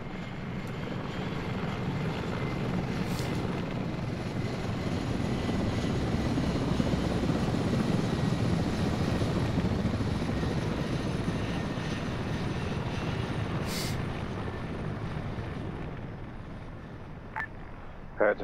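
Mi-24 attack helicopter in the video game Arma 3, its steady rotor and turbine roar circling overhead, loud and sustained throughout with a faint click near the end.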